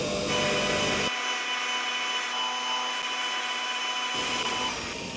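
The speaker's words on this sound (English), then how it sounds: "I'm just moving this backwards and forwards as I go on the wire buff." A power-driven wire buff grinds surface rust off metal as the piece is moved back and forth against it, a loud, continuous harsh whirring rasp that holds steady for several seconds, with no speech.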